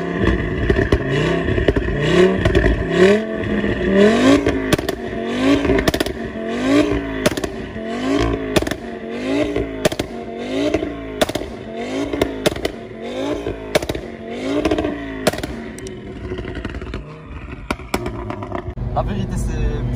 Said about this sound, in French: le 5 cylindres, la sonorité c'est un truc de malade